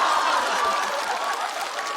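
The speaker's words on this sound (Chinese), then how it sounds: "你们越鼓掌，我做的越快。" Applause from a stand-up comedy audience, with scattered chuckles mixed in. It is a dense, steady wash of clapping that holds at an even level for two seconds with no talking.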